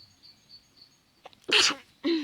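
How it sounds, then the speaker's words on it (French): A single sharp sneeze bursts out loudly after a quiet stretch, followed by a brief vocal sound. "Je vais éternuer."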